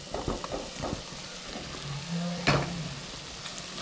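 Onion and potato samosa masala stirred and frying in a pan, a steady sizzle with scraping spoon strokes and a louder clatter near the middle, no talking.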